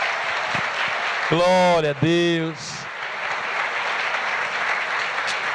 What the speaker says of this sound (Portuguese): Dá uma salva de palmas para eles, que eles merecem mesmo.